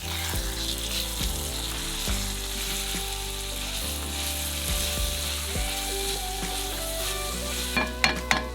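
A mixture seasoned with salt, pepper and smoked paprika sizzles steadily in a pan while being stirred, with a few clattering knocks near the end.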